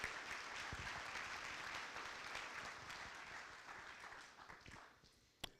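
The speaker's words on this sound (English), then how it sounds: "How about a nice round of applause for all 19 team MVPs?" A banquet crowd applauds for nineteen high school team MVPs, a broad, even wash of many hands clapping in a large room, fairly distant and soft, tapering off near the end.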